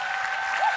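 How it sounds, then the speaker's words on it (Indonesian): Audience applauding for the performer Desta at a live televised duet show, a brief steady wash of clapping that sounds fairly distant. "Tepuk tangan sekali"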